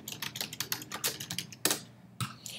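Typing on a computer keyboard, a close quick patter of individual key clicks with a short pause and a final heavier keystroke.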